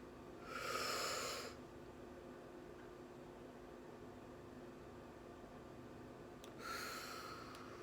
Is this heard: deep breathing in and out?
yes